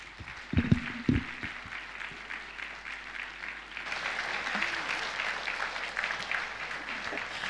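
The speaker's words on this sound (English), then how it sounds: "I need not to announce that a round of applause for Mr. Seni Adetu again." A crowd at a business talk applauds steadily, dense clapping throughout, with a few louder low thumps near the start before the applause swells and continues.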